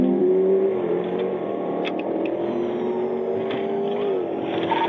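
A stolen 2018 Dodge Challenger Scat Pack accelerates away from nearby with a loud, steady engine drone whose pitch climbs and levels off. Faint higher whines sit above it, and nobody speaks.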